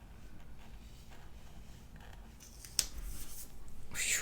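Scissors snipping through paper stickers, faint close crisp cuts with one sharp snip partway through, then a quick run of cuts near the end, all in quiet surroundings.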